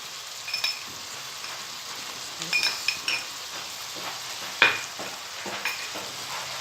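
Soft, steady sizzling of crushed ginger and garlic frying in a pan for keema, with a few light clinks and scraping stirs on top; no voices.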